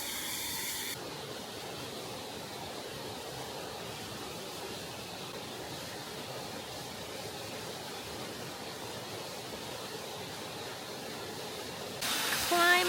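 A waterfall rushes in a steady, broadband roar at the end of a short hike, loud and constant throughout with no other distinct sounds.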